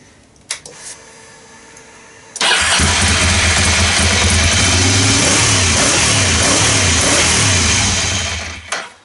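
A Monster motorcycle engine (Euro 3) cranks and fires up after a couple of faint clicks, then runs loudly with repeated revs for about six seconds before shutting off.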